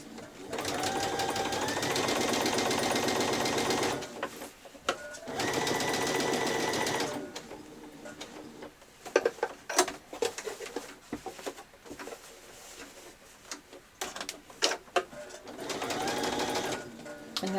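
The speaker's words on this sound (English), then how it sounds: "And I'll just do a second row of stitching along there." A sewing machine stitches a second row along a seam of a child's dress in long, steady runs broken by pauses, loud and close, with a pigeon cooing in the background and softer handling noises in the gaps.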